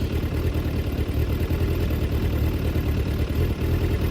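Car engine idling in arctic cold during a repair attempt, a steady close-up rumble with a low, even pulse that runs unbroken and alone.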